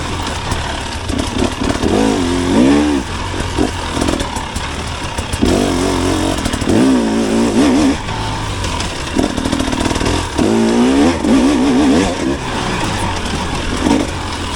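A 2024 KTM 300XC-W dirt bike running on the hot map, its engine revving up and down again and again in sharp, rising and falling bursts, loud and close with no talk.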